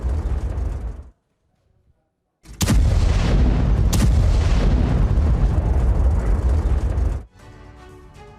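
Guided bomb strikes on military positions, with a short near-silent gap and then a long, loud, rumbling blast lasting several seconds, with sharp impact peaks at the start and midway before it drops off.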